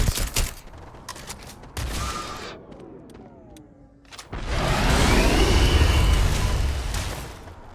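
Bursts of gunfire from the player's armor-piercing gun in Starfield gameplay: sharp loud shots early, a lull with whistling tones, then a long roaring volley of rapid fire swelling and fading.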